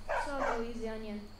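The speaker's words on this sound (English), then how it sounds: "Yeah, good doggy." A dog in the Skyrim video game gives a short pair of yelping barks followed by a softer whining note, fairly close and clear against a quiet background.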